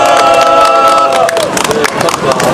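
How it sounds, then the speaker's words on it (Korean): A candlelight rally crowd applauding and cheering, a burst of clapping and shouts alongside a held tone that fades out, loud and close, with a voice speaking over it near the end. "어머니 박수 한번 주시죠."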